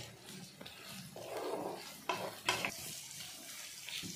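Ginger garlic paste sizzles faintly in a pan for chicken pickle, with scraping stirs and a few sharp clinks of a utensil against the pan over a soft background.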